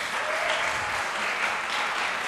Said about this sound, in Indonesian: boleh minta tepuk tangan yang meriah dong